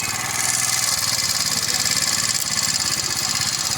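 A 70cc motorcycle engine runs during a battery charging check, a steady close putter with rapid even firing pulses that swells slightly as the throttle opens.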